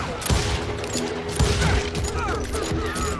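Revolver gunfire in the video game Call of Juarez: Gunslinger, dual-wielded revolvers firing a dense run of shots with mechanical clicks, loud and continuous, over game ambience and occasional voices.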